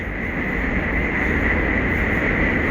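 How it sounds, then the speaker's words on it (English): A subway train rumbles across the Manhattan Bridge in New York, a steady, continuous rolling roar with a metallic hum heard from below the bridge near DUMBO. "you can actually hear the subway in the background making its way over the Manhattan Bridge"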